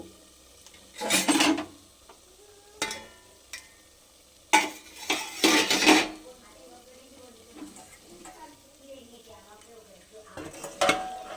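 Mutton is tipped into a handi pot of spiced oil in several bursts, each a short scraping, sizzling rush with stirring, separated by quiet gaps at close range.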